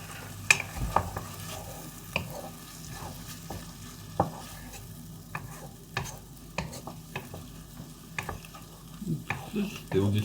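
Food frying in a pan while being stirred, with a steady low sizzle broken by scraping and clinking of the utensil against the pan, fairly close.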